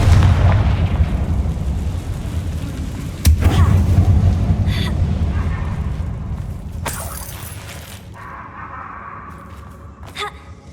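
Confringo blasting spell in the Hogwarts Legacy video game, a loud rumbling explosion that opens the stretch and fades over several seconds, with sharper bursts and crackles following.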